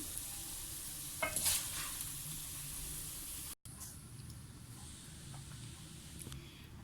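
Sweet rice for mutanjan scraped from a pot into a serving dish, soft close scraping and stirring over a faint steady hiss, with a brief louder scrape early on and no talking.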